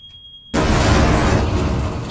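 A timed explosion in Resident Evil 2 Remake bursts in suddenly after a quiet lead-in, a loud, wide rumbling boom that stays dense and sustained, fading only slightly over the following couple of seconds.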